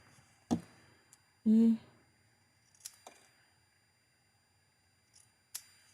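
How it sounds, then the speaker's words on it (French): Scissors cutting fabric for a small gift pouch, with a few sharp isolated snips spread across the moment and a short burst of quiet speech in between, close and dry. "Je vais prendre mes ciseaux."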